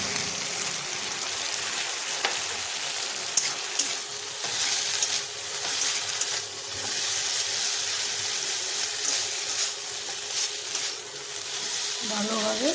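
Bitter gourd and potatoes fry steadily in a covered pan, a dense continuous sizzle with faint stirring scrapes and a brief watery clink near the end, no voices.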